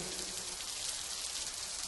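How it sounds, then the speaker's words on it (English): Rain beats down steadily on a shelter during a thunderstorm, a dense, even hiss of drops with no distinct thunderclap and no voices. "the sound of the thunder and rain beating down on our protection from the elements soothes me"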